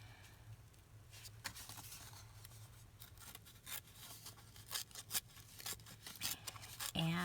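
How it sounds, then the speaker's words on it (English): Paper torn by hand for a collage page, one side held down while the other hand tears: quiet, close, rough ripping and rustling that comes in uneven bursts, with a low steady hum in the background. "holding down with my left and tearing with my right"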